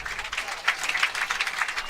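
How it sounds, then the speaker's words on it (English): A crowd at a baseball game breaks into a short burst of steady applause, moderately faint and somewhat distant. "Let's give a big round of applause for Lachlan Maud."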